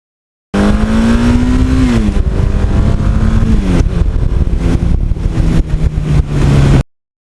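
A 1982 Suzuki GS1100E motorcycle rides along with a loud, steady engine drone close to the mic, the pitch climbing and dropping through gear changes as it accelerates and settles into cruising.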